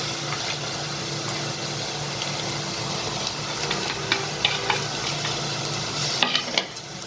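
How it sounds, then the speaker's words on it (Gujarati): Spices frying in a pan for chole: an even, steady sizzle with occasional stirring knocks that grow busier toward the end, close and without speech. "હવે આને આપણે પહેલાં હલાવી દઈશું। હવે આને થવા દઈશું આપણે।"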